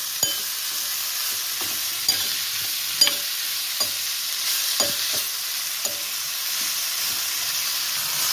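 Bajji chillies fry in a pan with a steady close sizzle, while a spoon stirs and scrapes at irregular intervals, with no voices.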